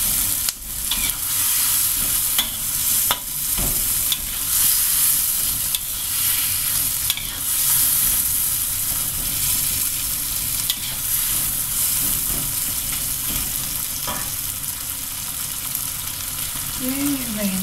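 Vegetables for a vegetable curry stir-fry in a pan, giving a steady loud sizzle punctuated by repeated scraping strokes of a utensil, close and continuous throughout.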